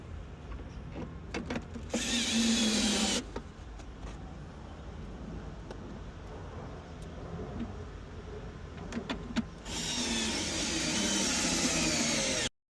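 A power drill whines in two sustained bursts while holes are drilled halfway to mount an aftermarket subwoofer in an Audi Q8, with a low rumbling background and brief clicks between the runs.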